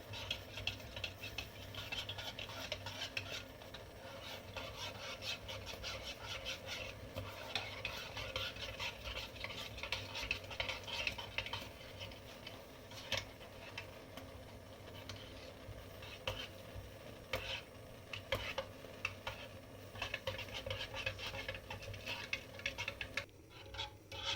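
Homemade baby food stirred in a pot on the stove, a steady scraping and swishing that runs on continuously and fairly close, with faint bubbling beneath and no talking.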